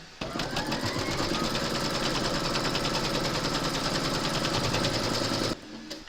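An embroidery machine stitching a placement outline for batting on a hooped crazy-patch notebook cover, a fast, even mechanical rattle held steadily for about five seconds before stopping.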